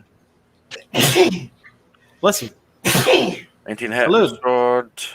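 A single loud, close sneeze during a tabletop game session, surrounded by people talking.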